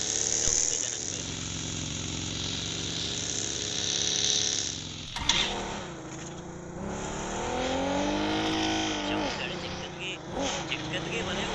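Vehicle engine droning and shifting pitch while driving in PUBG, a steady game-audio motor sound running the whole time with people talking over it.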